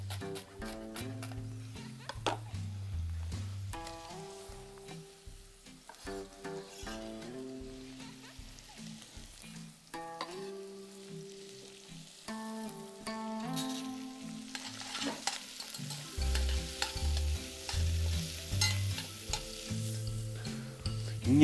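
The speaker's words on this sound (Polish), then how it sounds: "Zamieszam i posmażę około 5 minut, aby warzywa mi lekko zmiękły." Vegetables, including leek, sizzle gently in butter in a pot while being stirred now and then, with music playing in the background.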